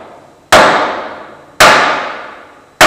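Loud, ringing steel-on-steel hammer blows on an auger bearing of a Mensch vacuum truck during a bearing replacement, three sharp strikes about a second apart, each decaying in a metallic clang, no talk.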